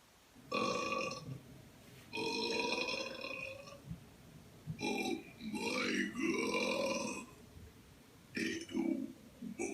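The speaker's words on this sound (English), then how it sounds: "The most burps I can do in one minuet." A girl burps repeatedly in close, loud, drawn-out belches, about five in a row separated by short pauses, some with a croaking, warbling pitch.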